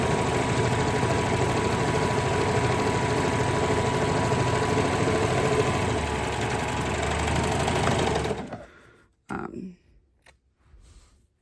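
A serger sewing machine runs steadily and loudly at close range for about eight seconds, a continuous mechanical whir that stops abruptly, followed by a few brief clicks and handling noises.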